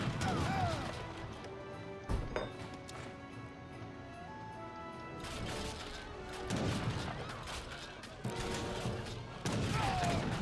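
Age of Empires 3 musket gunfire rattles in scattered volleys with crashing impacts amid battle music, fairly quiet in the mix.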